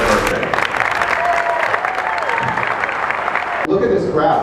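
Steady applause with cheering from a large crowd celebrating Mayor Eric's birthday at Hahn Hall, sustained and loud throughout with voices mixed in.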